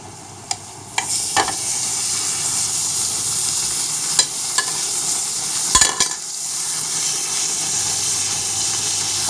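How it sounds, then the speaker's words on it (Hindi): Minced meat (keema) browning in a pan with crushed garlic and ginger, giving a steady close sizzle with a few stirring clatters and scrapes throughout, no talking. "अभी मैं इसमें कीमा डाल के उसको ब्राउन करूँगा।"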